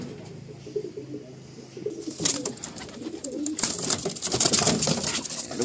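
Domestic pigeons coo in a loft, a steady low murmur of calls throughout, joined after a couple of seconds by louder rustling and flapping from birds moving close by.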